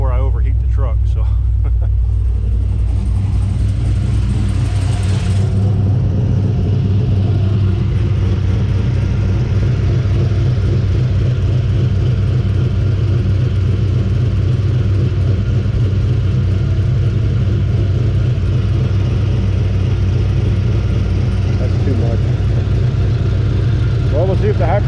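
Steady low rumble of an idling truck engine with the AC compressor running while refrigerant is being charged in hot weather, continuous and close throughout, with no speech.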